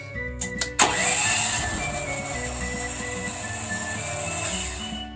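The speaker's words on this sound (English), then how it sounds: "Turn the start-stop switch there, and then hit start twice." A propane-fueled generator in a small 4x8 shed cranks briefly, catches, and settles into a loud, steady running drone nearby.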